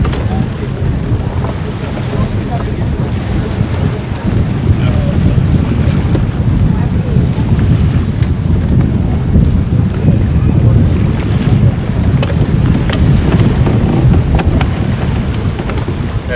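A schooner under sail in coastal Maine water, wind buffeting the microphone in a loud, steady roar with waves washing along the hull, heard throughout as the crew prepares to jibe.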